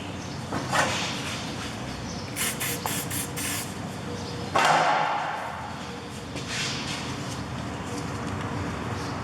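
Spray lubricant squirted onto a corroded wheel bearing nut on a Peugeot 308, a few short hissing bursts close up with a thump in between, over a steady garage background.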